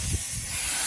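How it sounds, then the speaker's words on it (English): Steady hiss of air leaking from a pneumatic impact wrench while rear 221 bolts are removed during a car engine drop, a continuous breathy rush with a faint low rumble underneath, close and fairly quiet. "Sorry about the noise. It's going to be a little loud because"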